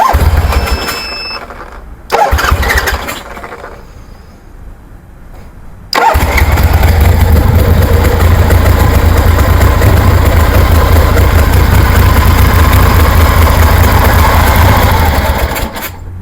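A 1973 Harley Sportster engine fitted with CV40 carburetors cranks and sputters briefly, then catches and settles into a loud, close, steady idle that runs on without a break.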